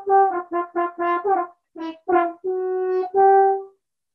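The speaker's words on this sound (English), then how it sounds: "So we use hand horn technique." A French horn plays a short phrase of separate, detached notes using hand horn technique, with slight pitch bends, heard solo and close with short gaps between the notes.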